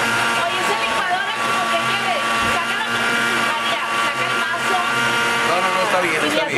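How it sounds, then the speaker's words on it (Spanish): A blender whirs steadily and loudly through the whole stretch, a continuous motor drone with voices talking over it. "Oye, esa licuadora"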